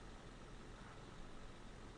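A steady, low truck engine rumble idles continuously in Euro Truck Simulator 2, with no pauses or voices, like a heavy truck running in place.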